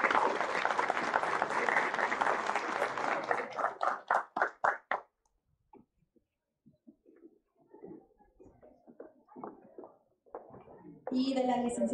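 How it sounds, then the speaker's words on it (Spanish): Loud audience applause at a university graduation ceremony for professional degrees, dense clapping that thins into scattered claps and fades, then a brief burst of renewed clapping near the end. "también brindamos un reconocimiento y un fuerte aplauso para Serrano Carmona Karen"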